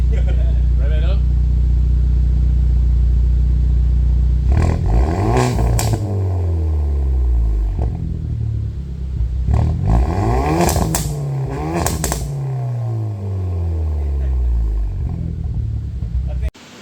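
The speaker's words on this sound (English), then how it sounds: "Rev it up." A Hyundai Veloster N with a newly fitted exhaust idles with a deep rumble, then revs sharply several times in close bursts, each rise and fall loud and near, with voices talking over parts.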